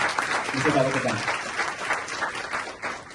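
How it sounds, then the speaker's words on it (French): An audience applauds a man at a trading talk, with sustained clapping from a crowd that swells early and then gradually thins, and a voice speaks under it. "s'il vous plaît, applaudissez ce grand monsieur-là"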